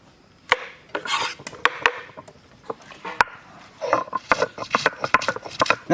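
Ginger is ground on a stone slab with a grinding stone, giving irregular close scraping strokes and sharp knocks of stone on stone with quiet pauses between them.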